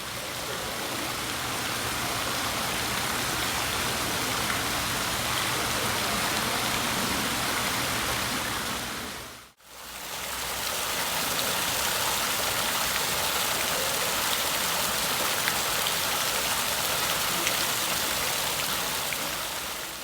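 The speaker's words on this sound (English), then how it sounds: "the Courtland Center has decided to keep theirs, and it's a pretty great little fountain" A small indoor fountain in a shopping mall's center court, with a dense, continuous rush of splashing water that briefly cuts out midway before resuming at the same steady level, with no voices.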